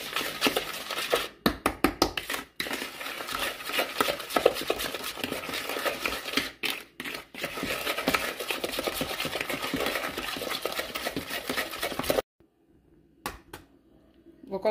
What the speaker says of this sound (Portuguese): Mas às vezes eu gosto de mexer assim com a colher, o modo tradicional